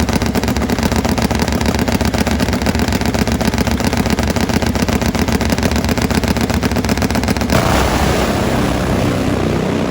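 Nitro Harley drag racing motorcycles roar down the strip side by side in a loud, sustained engine blast that cuts off sharply near the end, leaving a fading washy rumble.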